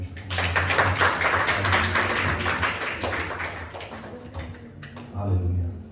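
A church congregation at a Sunday worship service claps together in praise, a steady run of hand claps under murmuring voices and music, fading slightly before swelling again near the end.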